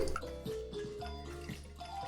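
Oil is poured into a pot of Kongu-style green gram curry, a faint, close liquid dribble with light drips running through the short clip, with no one talking.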